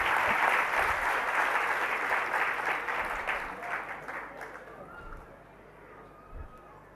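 Audience applause during a Jain religious discourse, a dense burst of clapping that gradually thins and fades to quiet over several seconds, with faint voices emerging near the end.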